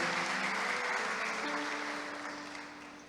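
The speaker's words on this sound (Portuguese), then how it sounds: "Aplauda o Senhor pela vida do seu pastor" A church congregation applauds its pastor, a fairly quiet wash of clapping with a faint tone underneath, gradually fading out over a few seconds.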